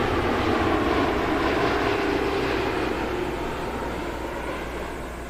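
An American Airlines plane lands on runway 09 left at Heathrow, a loud, broad roar of engines and rushing air that slowly fades as it passes, with no talking.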